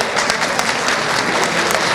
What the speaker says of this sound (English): let's give a big round of applause to all of our winners today.